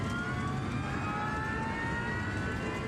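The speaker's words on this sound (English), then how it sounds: "The DC-10 with 67 people aboard roars toward the runway" A DC-10 jet airliner carrying 67 people roars steadily on its landing approach to the runway, a loud, continuous engine drone with a rising whine and no voices.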